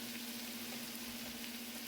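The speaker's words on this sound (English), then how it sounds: "Listen to that sizzle." Ground chuck meatballs sizzle in a pan in their own fat with a constant, even hiss, steady and close, with a faint low hum running underneath.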